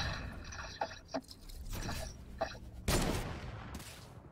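Hunting rifle shots in a video game: a string of sharp, loud cracks spread across a few seconds, the heaviest blast near the end, amid game effects.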